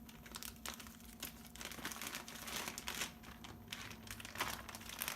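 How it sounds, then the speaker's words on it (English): A quart-sized plastic freezer Ziploc bag crinkles and rustles close up in irregular bursts, soft and continuous, with no talking. "Now a quart-sized freezer Ziploc bag."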